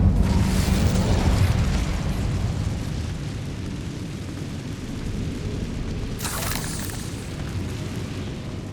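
Incendio fire spell cast in the video game Hogwarts Legacy, a loud roaring fiery burst that swells at the start, holds as a sustained rushing blaze, and flares again with a second bright whoosh near the end.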